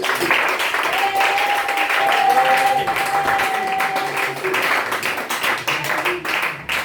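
A church congregation applauding the Lord during a French-language service, dense sustained clapping from a crowd with voices mixed in, loud and continuous, thinning toward the end.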